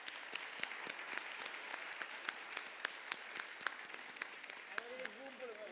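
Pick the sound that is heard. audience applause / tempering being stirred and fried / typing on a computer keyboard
audience applause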